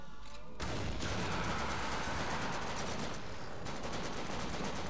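Sustained gunfire in the video game The Darkness 2, with dense rapid automatic shots rattling continuously and loudly for several seconds after a sudden start, and no speech over it.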